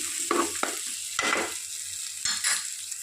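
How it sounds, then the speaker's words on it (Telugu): Onions and mint sizzle and fry in a pan for chicken curry, cooking toward golden, with steady crackling broken by a few scraping stirs close by. "వేసుకొని ఒకసారిగా కలుపుకొని ఇట్లా గోల్డెన్ కలర్ వచ్చేంత వరకు వేయించుకొని"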